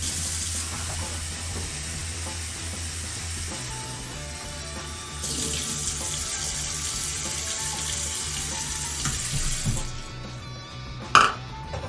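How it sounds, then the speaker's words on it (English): Water running from a kitchen tap into a pot or bowl while preparing an egg recipe, a steady rushing splash with faint clinks, ending in a sharp knock near the end. "Let's just throw an extra cup of water in there."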